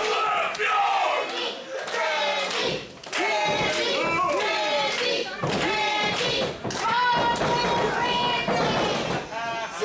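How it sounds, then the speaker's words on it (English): Wrestling arena crowd surging into loud cheers and shouts during a match between two big competitors, with thuds of bodies and a commentator's voice talking over the roar. "Crowd comes to life."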